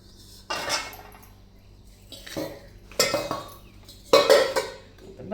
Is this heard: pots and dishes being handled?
yes